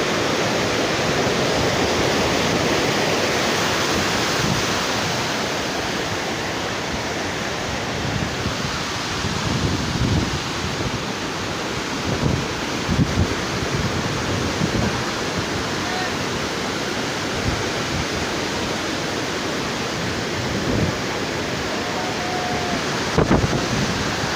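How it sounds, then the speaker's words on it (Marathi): Water released from a large dam reservoir rushes in a broad, continuous roar, loud and steady, with brief bumps of nearby handling and wind noise. "त्या तळ्यातलं पाणी सोडण्यात आलो आहे"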